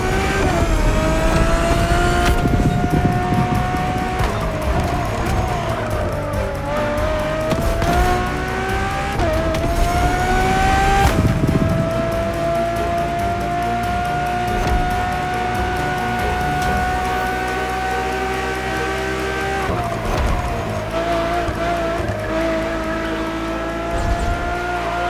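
A Ferrari supercar in The Crew Motorfest races along, its engine howling loudly and steadily with rising and falling pitch through gear changes, tires squealing at moments under the continuous roar.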